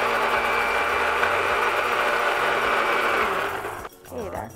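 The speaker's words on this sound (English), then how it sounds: "So we're blending this firstly, I see." A blender purees sorrel with a loud, steady motor whir that runs continuously, then cuts off abruptly near the end, followed by a brief voice.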